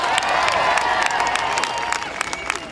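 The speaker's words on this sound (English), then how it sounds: "Give her a big round of applause." An outdoor political rally crowd at a park applauds and cheers steadily, dense clapping with some shouts, loud and continuous before easing slightly at the end.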